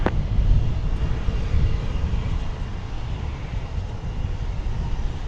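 An Envoy airliner taking off from runway 18 left at DFW Airport produces a steady, broad jet engine roar at moderate distance, holding level throughout.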